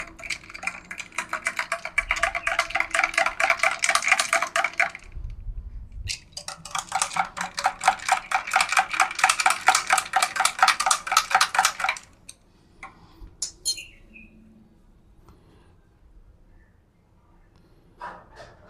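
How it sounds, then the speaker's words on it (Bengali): A spoon stirs roasted green mango sherbet in a glass, clinking quickly and steadily against the sides in two long close bursts before a few faint taps. "এরপর একটা চামচের সাহায্যে ভালো করে মিক্স করে নেব।"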